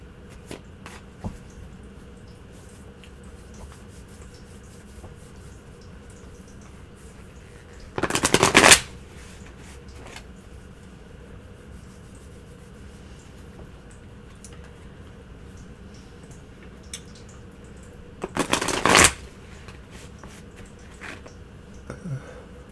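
Tarot cards are shuffled in two short, crisp riffling bursts roughly ten seconds apart, each lasting about a second, against a quiet room background with no talking.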